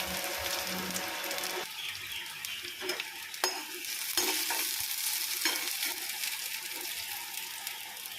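Garlic fries in ghee in a pan, a steady crackling sizzle broken by occasional stirring scrapes and spoon knocks, close and fairly quiet.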